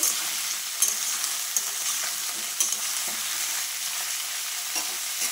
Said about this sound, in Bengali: গ্যাসের জালটা বাড়িয়ে আমি একটু ভেজে নেব।